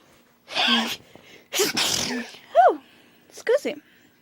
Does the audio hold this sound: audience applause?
no